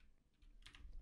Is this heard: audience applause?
no